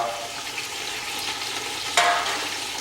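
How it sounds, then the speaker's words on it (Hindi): A mutton leg piece frying in a pot for an Awadhi musallam raan, giving a steady, moderate sizzle with faint stirring and a brief clink near the end, with no voices. "हमारा लेग पीस इसके अंदर डाल दिया है"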